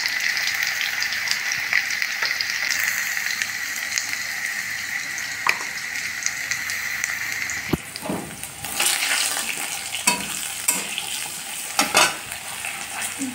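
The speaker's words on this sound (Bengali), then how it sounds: "আলু মোটামুটি ভাজা হয়ে গেছে, এখন আমি দিয়ে দিব হলুদ।" Potatoes frying in a pan as turmeric is added, a steady loud sizzle throughout with scraping stirs and clatters of a utensil in the second half, close by.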